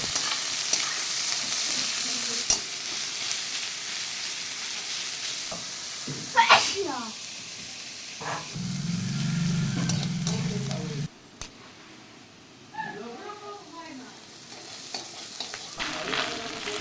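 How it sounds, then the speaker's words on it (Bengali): Chopped onions and green chillies frying in hot oil in a wok, a steady soft sizzle with spatula stirring scrapes and clinks, some brief louder bursts, and a short low hum partway through. "কড়াই তেল গরম করতে দিয়েছি, গরম হয়ে গেলে এতে দিয়ে দেব আমি। এবার এগুলোকে ভাজতে থাকবো।"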